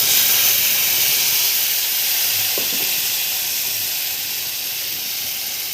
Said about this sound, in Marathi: कोथिंबीर अशी फोडणीमध्ये टाकली की त्याला छान टेस्ट लागते आणि बारीक केलेले मूग